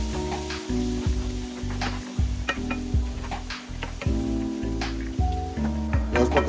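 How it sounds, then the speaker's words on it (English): Chopped vegetables for chop suey sauté in a pot, a steady sizzle running throughout beneath a prominent low tonal hum, with occasional sharper crackles and light clinks near the end. "I'm just going to put it in the pot. Let it saute for a bit."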